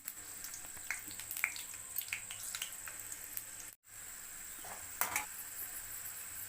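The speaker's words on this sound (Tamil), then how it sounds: "இந்த ஆயிலே நம்ம ரவையை போட்டு நல்லா வறுத்துக்கலாம்." Semolina roasting in oil in a kadai for fruit kesari gives a steady, close sizzle and crackle that runs throughout, broken by a brief gap midway, with occasional stirring scrapes.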